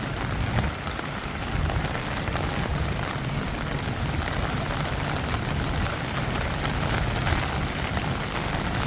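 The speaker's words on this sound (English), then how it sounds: "It was raining really hard like 10 minutes ago, but I can already notice that it's not that bad" Steady, dense downpour drumming on hard surfaces of a Bangkok city street in monsoon season, a constant broad hiss of heavy rain with no voices.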